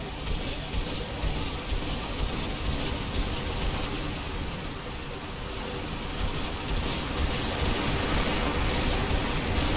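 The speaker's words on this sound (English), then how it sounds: "God damn, that was a loud waterfall." A loud waterfall in the Mass Effect 2 video game, a dense, steady rushing roar of water that fills the whole stretch without a break.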